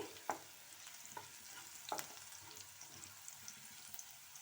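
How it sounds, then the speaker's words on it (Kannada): Garlic frying in oil in a pan for a capsicum besan side dish, with a faint steady sizzle and a few sharp scraping clicks of a spoon stirring, close and quiet. "ಬೆಳ್ಳುಳ್ಳಿ ಚೆನ್ನಾಗಿ ಫ್ರೈ ಆಗಲಿ ಅದು ಕೂಡ ಗಮ ಬರ್ತದೆ ನೋಡಿ ಅಷ್ಟರವರೆಗೆ ನೀವು ಫ್ರೈ ಮಾಡಿಕೊಳ್ಳಿ"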